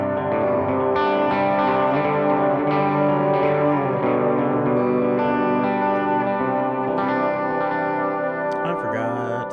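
An electric guitar played through a Tonex pedal with delays engaged rings out in sustained, distorted chords whose repeats smear into a dense wash, loud and continuous, ending with a few sharp clicks.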